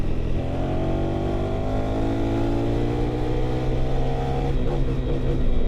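A KTM 390 Adventure R single-cylinder motorcycle engine revs steadily at high RPM, its rising drone held loud and close for several seconds with a slight climb in pitch near the end.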